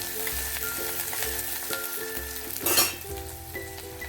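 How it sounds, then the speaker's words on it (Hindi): Chopped onion sizzling with cumin seeds in a hot pan, a steady close crackle and hiss with a brief louder spatter as it is stirred partway through. "इसमें जाएगा ऑनियन। ऑनियन को हल्का ब्राउन करके भूनना है पहले।"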